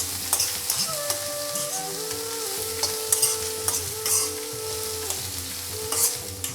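Thinly chopped papaya being stirred in a hot pan for a Kerala-style papaya thoran, with a continuous sizzle and repeated scraping spoon strokes against the metal, close and steady, with no talking.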